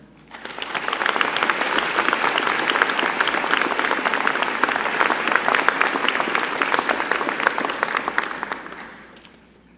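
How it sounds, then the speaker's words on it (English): Audience applause fills a graduation convocation ceremony hall, a dense, steady wash of many clapping hands that swells in, holds loud for several seconds, then fades out. "please join me and the Platform Party in a round of applause in their honor"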